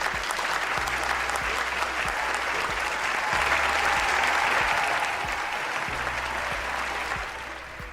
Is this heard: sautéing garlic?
no